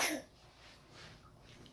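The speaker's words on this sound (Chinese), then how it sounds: "你看你咳嗽还有痰呢" A child with a lingering, phlegmy cough from an illness not yet fully cleared coughs once, short and close, at the very start; faint room noise follows.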